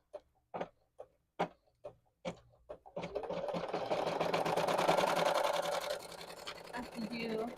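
An embroidery machine stitching a beanie. Several sharp separate clicks come first, then a close, fast, steady mechanical chatter of rapid needle strokes that runs to the end.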